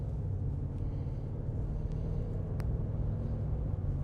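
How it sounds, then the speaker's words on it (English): A 2025 Ram pickup with a ZF 8-speed transmission pulls through its gears while accelerating, heard from inside the cab as a steady low engine and road rumble, even and smooth with no distinct shift breaks. "So this thing goes to the gears and accelerates"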